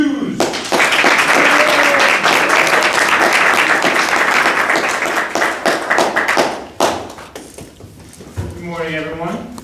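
A Toastmasters meeting audience claps warmly for an arriving speaker, a dense burst of many hands that thins out into scattered claps before a voice begins to speak at the end.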